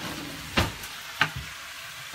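Sausage frying in a pan sizzles quietly throughout, with a few sharp clanks from utensils stirring it at close range.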